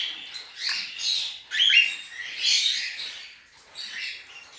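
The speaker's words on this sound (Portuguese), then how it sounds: "eu coloquei aqui quatro calopsitas" Four young cockatiels in a large cage give bursts of high chirps and raspy calls, fairly close and moderately loud, rising and falling in short waves.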